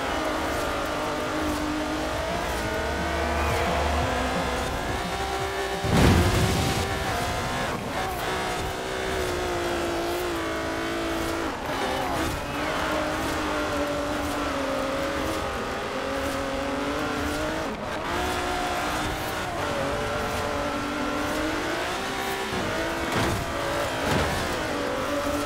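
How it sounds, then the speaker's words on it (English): Limousine engine droning steadily through a dirt racing event in Forza Horizon 4, sustained revs with shifting pitch, a brief bump and tire noise near the middle, no talk over it. "I'm beating the AI on unbeatable at a dirt racing event in a limo"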